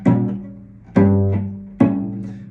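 Cello playing measure 25 of Duport Etude No. 7, three bowed notes with sharp onsets about a second apart, each sustained and slowly fading, rich in harmonics, close and alone.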